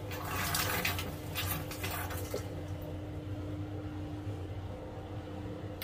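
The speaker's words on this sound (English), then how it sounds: "Somebody's got the sink on in the bathroom" Water runs from a bathroom sink aboard a Grady White 456 Canyon boat with its freshwater pump on, a faint steady flowing hiss over a low mechanical hum.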